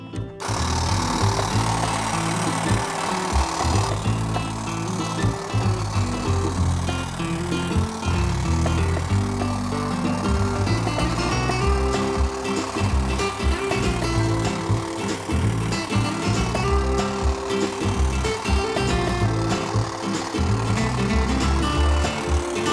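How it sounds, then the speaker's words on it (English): A hedge trimmer runs continuously while cutting a hedge, a loud, steady motor buzz that holds throughout without pause. "And then we can start trimming this hedge."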